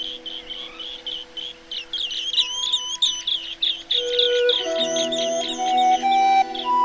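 Green bee-eaters calling in Adyar: a quick, steady run of short, high trilling chirps repeated close by, over faint steady tones in the background, with no talking.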